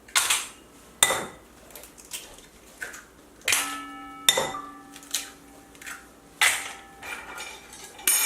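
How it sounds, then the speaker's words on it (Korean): Four eggs cracked one after another into a bowl in a home kitchen while making egg crepe for picnic gimbap, sharp shell taps and clinks against the bowl rim with light ringing dish sounds, close and quiet with no talk. "계란을 4개 정도 깨주세요."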